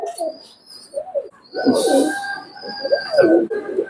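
KTM pigeons coo in soft, throaty bursts, several calls in a row, close by, with faint chirps and a brief hiss mixed in.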